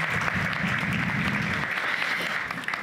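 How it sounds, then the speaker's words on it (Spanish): Full, steady applause from an audience at an archives day panel, close and sustained with a low murmur of crowd beneath, easing slightly toward the end. "Un aplauso para él, por favor."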